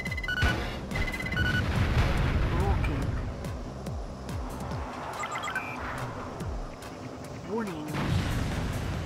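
Missile explosions in the Wipeout 3 racing game, heavy booms and crashes layered over a droning engine hum, with electronic beeps and a synthetic announcer voice calling out weapons and warnings.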